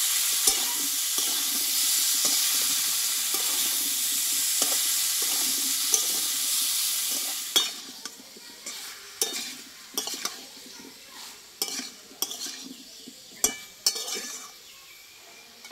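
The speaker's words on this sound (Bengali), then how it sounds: "আর দেবো স্বাদ মতো লবণ, আর দেবো হলুদ গুঁড়ো, দিয়ে ভালোভাবে কষিয়ে নেব।" Tomatoes with salt and turmeric cooking in a pan for a vegetarian pumpkin dish: a steady loud sizzle for several seconds, then quieter frying broken by irregular scraping and clinking of a spatula against the pan, close by with no talk.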